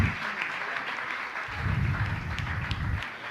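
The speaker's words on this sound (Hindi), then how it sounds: "इनकी सम्मान आप लोग तालियां बजाते रहे" Audience applause honoring temple trustees at a Jain religious gathering, a steady wash of many hands clapping that swells louder midway, with faint voices beneath.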